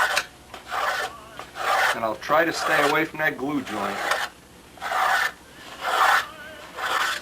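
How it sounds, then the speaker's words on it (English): A sanding block is rubbed over wood on a Spitfire model, making rhythmic back-and-forth rasping strokes close by. Someone talks over part of it. "I'll get the last little bit off with the sanding block."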